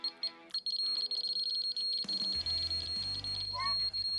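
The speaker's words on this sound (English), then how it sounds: "Every time we hear a beep like this, it means there's radiation coming here." Geiger counter beeping close to radioactive monazite sand, a steady run of short high electronic beeps that carries through the clip, with a low rumble and handling noise joining in partway through.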